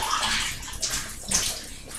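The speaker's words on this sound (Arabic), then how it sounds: "نجيب بقى مية ونحطها فيها كده بالراحة" Water poured slowly into a jar of pickled lemons, a close, continuous splashing gurgle that swells and eases in small waves for a couple of seconds.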